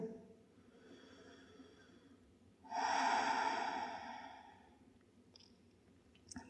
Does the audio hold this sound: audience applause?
no